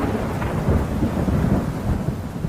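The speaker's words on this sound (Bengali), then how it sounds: "একটু আগে বাজ পড়ার শব্দ পেয়েছি," Deep rolling thunder rumbles continuously through a rainstorm, heavy and low with a wash of falling rain beneath, with no voices.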